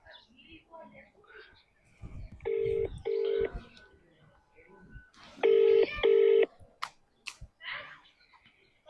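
Telephone keypad tones beep in two pairs, short and clear, amid faint background voices and small clicks.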